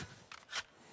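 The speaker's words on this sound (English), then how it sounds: "Reloading." Weapon reload in the tactical shooter Valorant: two short, crisp mechanical clicks, a lighter click around a third of a second in and a louder snap just after the midpoint, close and clean with no talk.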